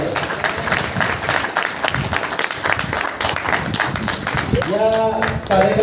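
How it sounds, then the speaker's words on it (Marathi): An audience claps to welcome guests onto the stage at a retirement ceremony in Nashik, a dense, continuous patter of applause with voices speaking through it. "सर्वांनी जोरदार टाळ्यांच्या गजरामध्ये स्वागत करायचं आहे."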